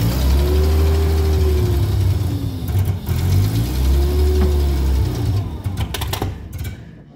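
A Daimler Ferret armoured car that has not run in over a decade, its engine turning over and running loud and rough up close, with the pitch rising and falling as it revs before dying away at the end.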